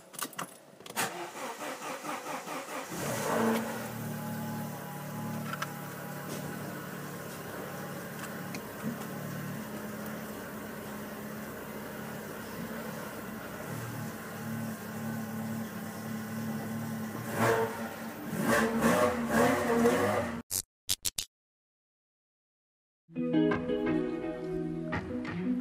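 A 1990 Alfa Romeo Spider Series 4 cranks and fires, then settles into a steady running idle for around fifteen seconds before revving up, cutting out briefly and restarting; keys jangle near the start and no one speaks.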